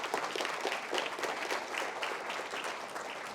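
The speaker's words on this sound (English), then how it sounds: "So give yourself a big round of applause as we get started." An audience at a CVR gathering gives a round of applause, a steady wash of many hands clapping, soft and somewhat distant, with no talk over it.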